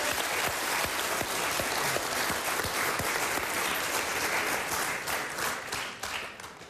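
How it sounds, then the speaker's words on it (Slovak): A studio audience on a Slovak quiz show applauds for Peťka, a long dense round of clapping with a few sharp individual claps standing out and slowly thinning toward the end. "Potlesk Peťke."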